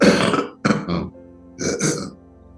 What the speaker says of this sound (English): if I do some coughing, please understand what's happening around me.